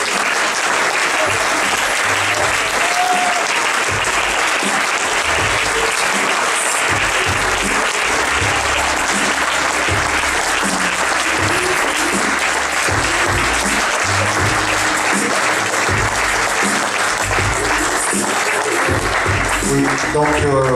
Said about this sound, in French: avancez-vous pour recevoir les applaudissements du public